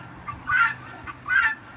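Chickens on a small farm, including Brahma hens and bantams, cluck in two short bursts close by over a quiet rural background.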